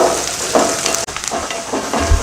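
Sliced onions sauté in a hot pan, giving a loud, close frying sizzle that carries throughout with a few stirring scrapes.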